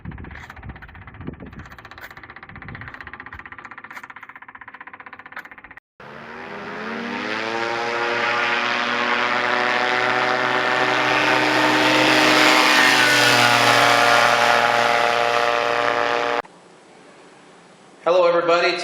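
A Yamaha RX1 snowmobile engine mounted on a trike with a propeller starts up and runs at a loud, steady drone that climbs slightly in pitch, then cuts off abruptly before briefly roaring again, with talk heard early on.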